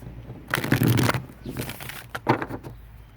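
Cards from the Sacred Traveler deck riffle and slide close by outdoors, a dense shuffle burst followed by several uneven, lighter card flicks and taps.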